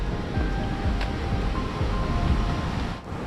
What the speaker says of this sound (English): here's the bridge over a waterfall from the sounds of it.